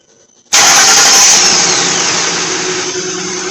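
A 2008 Ford F150 engine cranks and catches abruptly, then settles into a loud, steady idle that stays close and continuous with no talking.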